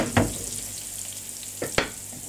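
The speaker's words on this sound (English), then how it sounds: "bloom the spice in the red pepper and bloom the oils in the dried herbs. Always do that over heat." Red pepper and dried herbs frying in hot oil, a steady close sizzle broken by two sharp scraping stirs of the pan, one early and one near the end, no talking.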